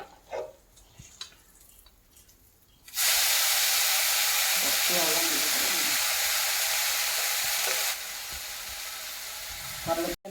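Cooked rice tipped into a lemon rice mixture in a hot pan, quiet scraping first, then a sudden loud steady sizzle and hiss that drops slightly toward the end, with some talk nearby.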